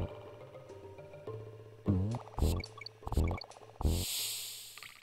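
Defeating a snake in Super Donkey Kong sets off a watery, bubbly game sound effect. Sliding squishy blips repeat several times over a looping in-game music bed, loud and clear with no talk.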